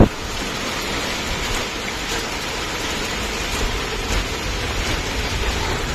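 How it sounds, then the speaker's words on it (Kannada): Heavy first rain of the year in Dharwad, Karnataka, pouring steadily, a dense, even roar of water hitting surfaces nearby with no voices. "ಫುಲ್ ಮಳೆ ಆಗಂತೈತ್ರಿ ಈ ವರ್ಷದ ಫಸ್ಟ್ ಮಳೆ ನೋಡ್ರಿ"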